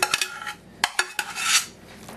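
Pork and beans, smoky sausages and onions with barbecue sauce going into a square 8 or 9 inch casserole baking dish: a few sharp clinks and scrapes of a utensil against the dish, with a soft sliding rush.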